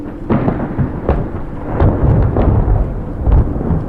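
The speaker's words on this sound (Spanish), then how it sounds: "de pronto cayó un rayo tan fuerte que alumbró toda la calle" Loud storm thunder from a lightning strike booms and rumbles, with sharp cracks and rolling low peaks over about four seconds, no voices.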